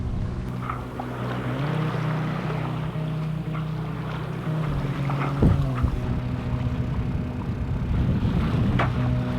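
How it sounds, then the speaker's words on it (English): Sailboat under way on the Intracoastal Waterway, with steady wind rush over the microphone, water washing along the hull and a low continuous drone throughout, fairly loud and close, with no talk. "Gerry, how do you like sailing?"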